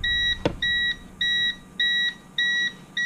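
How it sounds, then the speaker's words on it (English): An Amazon Basics UPS 400VA battery backup unit, unplugged from the wall, beeps steadily, six evenly spaced electronic tones with short gaps, after a brief click at the start. "I will unplug it from the back here and it should start beeping here."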